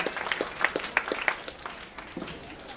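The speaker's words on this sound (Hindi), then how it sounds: "मंजूर आज़मी साहब पुरजोर तालियों से इस्तकबाल के रहा हैं" A small audience at an Independence Day mushaira claps to welcome a poet, a few scattered, separate claps that thin out and fade within about two seconds.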